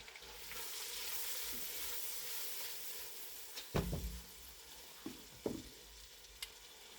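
Half a chopped onion and celery sizzle steadily in a pan for a cream of tomato soup, a continuous close frying hiss broken by a few sharp clicks of a utensil against the pan.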